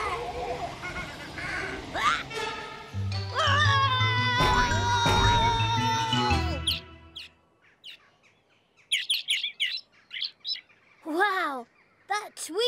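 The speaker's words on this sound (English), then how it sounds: "that tweeting is really loud when you hear it through the trumpet" Cartoon birds tweet loudly, amplified through a trumpet, with rising and falling whistled chirps over a busy musical bed, then scattered sharper chirps and sweeps against near silence.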